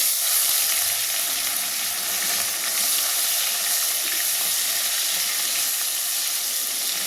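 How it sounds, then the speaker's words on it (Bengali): Cumin seeds and chopped tomatoes drop into hot oil and sizzle loudly and steadily, a dense, close hiss of frying that holds for several seconds with no break. "এই তেলে দিয়ে দিচ্ছি একটু জিরে ফোড়ন, দিয়ে দিচ্ছি কেটে রাখা টমেটোগুলো"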